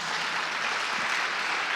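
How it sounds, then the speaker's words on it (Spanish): A church congregation claps loudly together in a steady, dense wash of applause filling the room, with no voices standing out. "Dale un fuerte aplauso al Señor"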